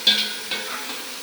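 Chicken pieces frying in a hot pan for biryani, a bright continuous sizzle with a few soft stirring scrapes over about a second.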